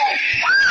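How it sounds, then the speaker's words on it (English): One sharp, high scream bursts out for under a second, loud and close, shrill and strained throughout. "everybody's fucking screaming!"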